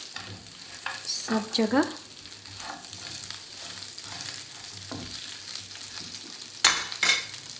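Crushed chillies stirred into a frying pan of chicken wings with soy sauce: soft sizzling under scraping spoon strokes, several sharper knocks against the pan, and a brief spoken word.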